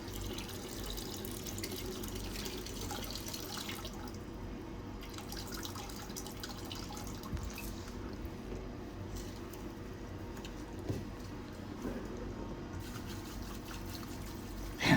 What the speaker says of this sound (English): Now what I'll do is just pour some distilled water in here on the pure silver, and we'll rinse this off little by little